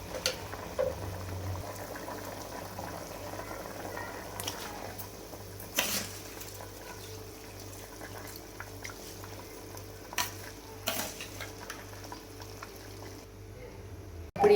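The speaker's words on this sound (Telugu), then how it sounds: "ఇప్పుడు ఇక్కడ మన బఠానీ మరియు ఆనియన్స్ బాగా బాయిల్ అయిపోయాయి కదండి." Peas and onions boiling in water in a pot for potato and pea pulao, a soft low bubbling simmer with faint clinks and a few sharper knocks throughout.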